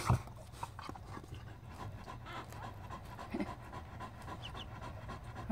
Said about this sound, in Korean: 거친 숨을 막 내쉬면서 너무 힘들어한다